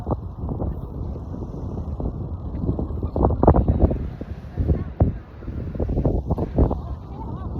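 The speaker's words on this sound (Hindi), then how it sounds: "तो हवा चल ना" Steady gusty wind rumbles and buffets throughout, with louder surges midway, close and rough like wind across an open microphone.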